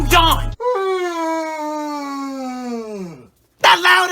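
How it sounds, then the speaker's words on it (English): A person lets out a loud, drawn-out yawn, a voiced moaning tone that slowly falls in pitch over about three seconds, with brief loud bursts of voice before and after it. "That loud ass yawn."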